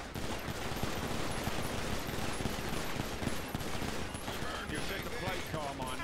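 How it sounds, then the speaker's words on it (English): Rapid video-game gunfire, a burst of about a dozen shots at a police-cadet firing range, dense and continuous at steady loudness with voices talking over it and background music. "Go ahead and unload 12 rounds."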